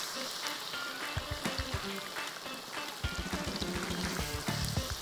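Dynamite prawns deep-fry in hot oil, a busy crackling and bubbling texture with irregular pops that grows denser and louder in the second half, fairly close but moderate in level.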